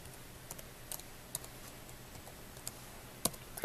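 Panasonic Toughbook CF-53 laptop keyboard being typed on, sparse quiet key clicks in an irregular pattern with a short burst near the end, faint and close.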